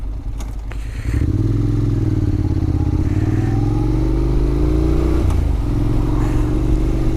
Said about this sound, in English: I'm going to turn off the engine.